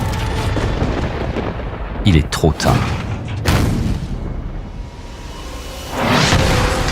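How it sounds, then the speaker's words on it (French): Heavy booms of artillery shells striking a ship's forecastle roll through a noisy naval battle scene, with someone speaking briefly between the blasts. "Les obus s'écrasent directement sur le Gaillard, avant dans un coup brutal."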